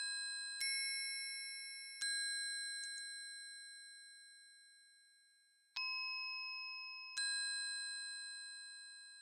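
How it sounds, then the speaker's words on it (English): Bright bell chimes ring out in a slow melody, four struck notes with long decaying tails, clean and isolated against silence. "there's another bell melody chime. I use this on a lot of beats."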